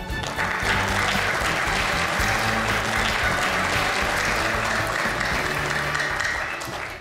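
A business forum audience in Incheon gives a minister a long round of applause before his lecture, a full, sustained clapping that stays loud for several seconds before easing off.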